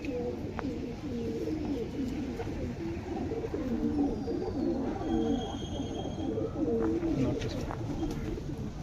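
Domestic pigeons coo in repeated low, throaty phrases, close and steady throughout, with faint background noise.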